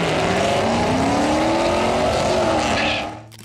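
A 1996 Pontiac Firebird Trans Am WS6 roars loudly at close range, its engine note rising steadily under hard acceleration before cutting off abruptly at the end.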